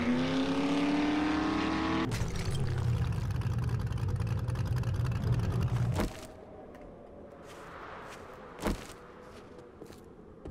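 Truck driven in 7 Days to Die, engine droning loudly with a rough low rumble that cuts off midway, followed by quieter ambience and a single sharp knock.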